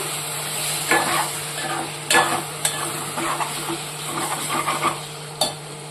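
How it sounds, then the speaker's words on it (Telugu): Cucumber pieces cook in a pan with a soft, steady sizzle. A utensil stirs and scrapes them at close range, and a few sharper metallic knocks and clinks stand out at irregular moments. "దోసకాయ ముక్కలు కూడా కొద్దిసేపు మగ్గనిద్దాం"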